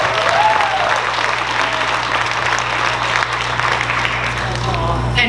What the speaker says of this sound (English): Can we please have another round of applause for our senior leadership administrators?